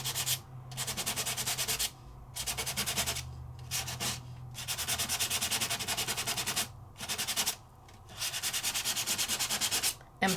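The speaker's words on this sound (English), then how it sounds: "I'm gonna go ahead and just sand a little bit." Dried wax is sanded off an embossing folder in a series of close, raspy rubbing strokes. The strokes come in bursts with short pauses between them, and no one speaks.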